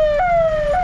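Ambulance siren wailing steadily nearby, loud and alone, while the vehicle sits stuck in a heavy traffic jam at a railway crossing.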